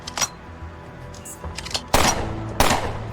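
Grenade launcher firing in the video game Underrail; a few scattered light shots, then two sharp loud bursts with short decaying tails, alone without talk.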